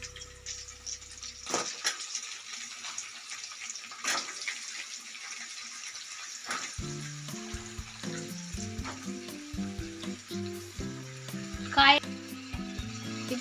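Vegetables for sambar sizzle and bubble in a pot, a steady close frying hiss with occasional stirring clatter while a voice talks over it.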